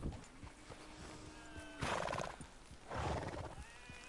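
A horse in Red Dead Redemption 2 whinnies twice in loud, shrill bursts, with hooves clip-clopping faintly in between.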